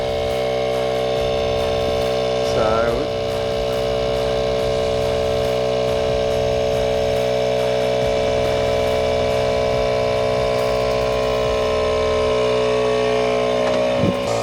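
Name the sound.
air compressor running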